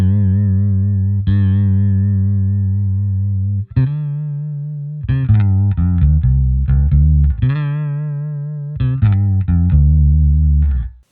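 An electric instrument runs through a Vibralis vibrato modulation effect set to high depth, its sustained and staccato notes warbling with strong, wobbling pitch modulation, loud and alone with no talk.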